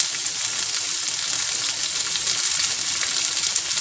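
Urad dal, curry leaves and coriander sizzle loudly in hot oil as a tempering for coconut chutney, a steady, dense crackling hiss that runs unbroken from start to finish.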